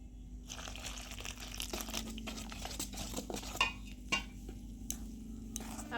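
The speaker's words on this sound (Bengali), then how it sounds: "এবার আমি এই গরম জলটা দিয়ে গুলে নেব।" Rice flour being mixed with lukewarm water into a batter in a bowl for fried pitha, with soft liquid swishing, occasional utensil clinks and scraping against the bowl, close and continuous with no talk.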